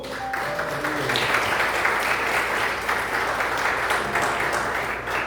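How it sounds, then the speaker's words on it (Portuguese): A church congregation applauds steadily and loudly, a dense, sustained wash of clapping from many hands that fills the space from start to finish. "Aplauda o Senhor."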